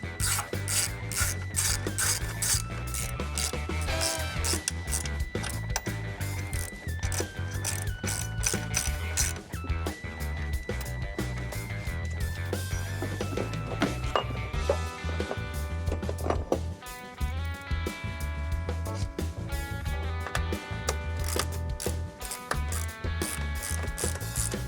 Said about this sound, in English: Literally all I have to install this is a ratchet with a 12mm socket.